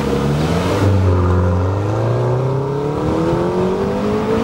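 A McLaren GT grand tourer sports car pulls away on the road, its engine note climbing steadily in pitch as it accelerates, loud and close with a smooth rising whine.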